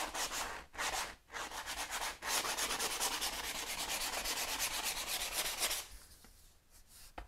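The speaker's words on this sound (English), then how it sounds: "literally just rubbing it up and down" Smoothing paste being rubbed up and down over a cast-in-place mix surface by hand: a steady, close scraping and rubbing with rhythmic strokes that runs continuously, with no talk, before easing off near the end.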